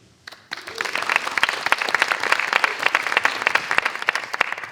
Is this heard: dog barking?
no